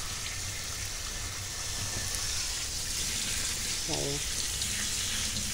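Running water rinses sea moss in a bowl, a steady splashing hiss from a tap that continues throughout, with a brief spoken word partway through.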